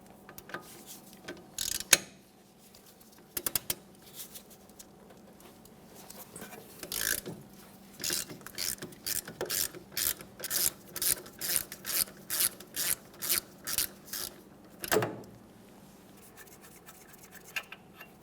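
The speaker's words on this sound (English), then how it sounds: "Let's start by removing each of those 2 mounting nuts." A ratchet wrench cranks on a mounting nut at the rear wheel hub of a 2010-2013 Kia Forte Koup, a quiet rhythmic series of clicking strokes that speeds up toward the end, with a few louder knocks.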